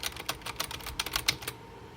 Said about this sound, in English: you're gonna be hearing my mouse and my keyboard. They're pretty loud